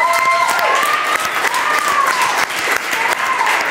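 A crowd breaks into loud, dense applause that holds throughout, with cheering voices and whistles rising above the clapping.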